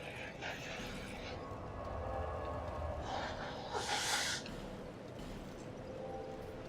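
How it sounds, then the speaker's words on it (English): A young man blows his nose once with a short, forceful honking snort, faint and close, amid quiet room noise. "Chicho's going to blow his nose, everybody."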